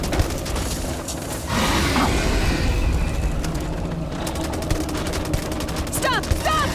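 Gunfire in the sci-fi game Starfield, with dense bursts of rapid shots and booms over a rumbling background, some sharp cracks standing out near the end.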